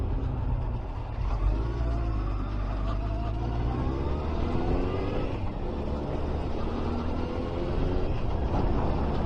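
Motorbikes pass along a rural road on the Califer Triangle, heard from another bike idling at the roadside; a steady engine drone with rising and falling whine as the bikes go by, no talking.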